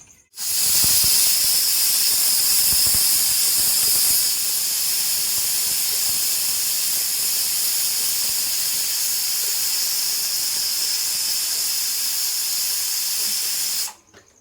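A kitchen pressure cooker vents steam in a loud, sustained hiss with a high whistle, holding steady for about thirteen seconds before cutting off abruptly, with no talk.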